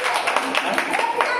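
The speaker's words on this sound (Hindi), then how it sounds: "ताली बजा दो" Students in a classroom clap their hands in quick, uneven bursts of sharp slaps, mixed with loud nearby chatter and voices.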